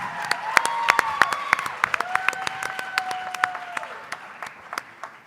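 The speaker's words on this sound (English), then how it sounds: "Let's give her another round of applause." An audience at a student athlete talent show breaks into loud, dense applause with sharp individual claps and scattered cheers, sustained for several seconds as a sustained tone rings underneath.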